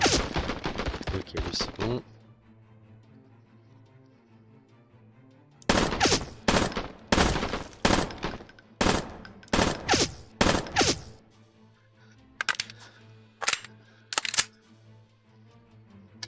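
Gunfire from a gun in the video game Wars & Roses, loud separate single shots and short clusters with quiet gaps between them, after someone speaks briefly at the start.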